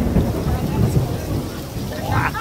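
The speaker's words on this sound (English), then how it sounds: "It's pouring rain" Heavy rain pours steadily in Orlando with a dense, rushing hiss, and low rumbles roll underneath.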